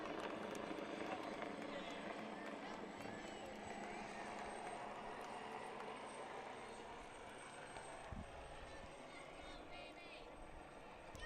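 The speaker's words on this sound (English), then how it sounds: "we have a life flight helicopter passing overhead, about to land" A life flight helicopter passes overhead about to land near a high school softball game, a steady distant rotor drone and rumble that fades slightly, under quiet crowd ambience and a commentator's talk.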